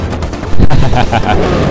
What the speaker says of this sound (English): Epic explosion!